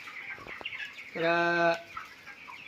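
Chickens in a poultry farm shed, 22-day-old birds, give a loud, close cluck with a drawn-out call, while someone speaks briefly.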